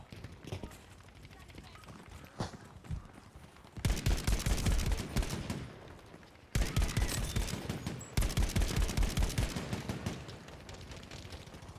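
Rapid bursts of gunfire in the shooter game Battlefield 5, quiet scattered shots at first, then loud sustained automatic volleys with brief gaps, alongside faint voice chatter.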